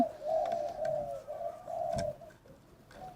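A white spotted dove in a hanging cage gives soft, small-voiced coos, several gentle hooting notes in a row, close and alone against faint background hiss.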